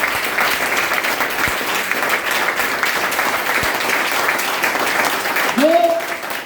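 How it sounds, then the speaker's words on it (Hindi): An audience applauds to welcome a guest at an IMC gathering, a steady wash of clapping from many people heard close. A brief rising whistle-like tone appears near the end. "उनके लिए मैं चाहूंगा जोरदार तालियों से वेलकम किया जाए"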